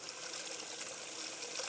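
White wine and water pouring steadily into a pan, a continuous soft trickling hiss with no voices.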